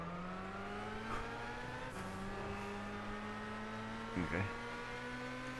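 Steady racing-game car engine hum from Gran Turismo 6, holding a droning pitch with a brief rev near the end, while a voice speaks briefly over it.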